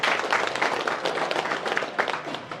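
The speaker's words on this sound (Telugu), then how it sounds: "చప్పట్లు కొట్టి అభినందిస్తున్నా" A crowd of villagers claps steadily to welcome twenty families joining the Telugu Desam Party in Kanamarlapudi village, a dense, moderately loud round of applause that lasts throughout.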